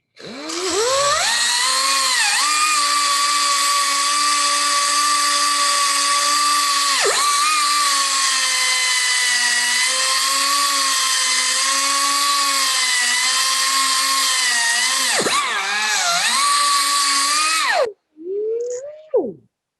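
An angle grinder cuts through metal in a long, loud, steady high-pitched whine lasting about seventeen seconds, dipping briefly twice under load before spinning down at the end, with no talk.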